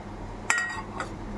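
Spoon or ladle clinking against a pot while chilli powder, turmeric, coriander-cumin, garam masala, salt and sesame seeds are stirred in for a Gujarati curd-based cluster bean curry; two short metallic clinks, close and fairly loud, with no voices.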